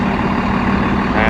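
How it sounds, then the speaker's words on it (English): A tractor running a front press with low-pressure tyres during spring bean sowing gives a loud, steady diesel engine drone with a low hum throughout, close by; a voice can be heard over it. "So we're running a front press on the tractor"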